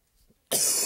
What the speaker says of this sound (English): Just coughed.